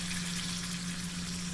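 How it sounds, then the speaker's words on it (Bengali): Water poured into an egg curry simmering in a pan, a steady, even gushing and rushing of liquid, fairly faint and alone, with no talk. "এরপরে তো পরিমাণ মতো পানি দিয়ে দিব ঝোল"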